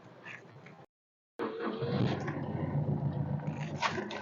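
2012 Maruti Swift VDI diesel engine turning over and starting after a brief silence, settling into a rough, clattering idle heard close by.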